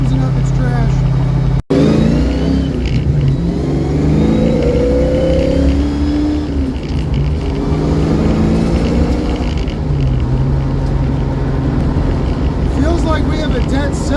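Ford Mustang with a suspected dead cylinder, driving under throttle: a steady, rough mid-pitched engine drone rises and falls through the clip, with a sharp dropout near the start and talk over it.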